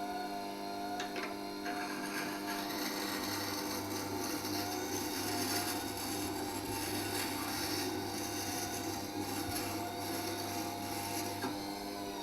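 Grinding on a WG250 wet stone grinder while sharpening a carving V tool gives a constant motor hum with a soft scraping rub of steel on the wet stone, steady and close throughout.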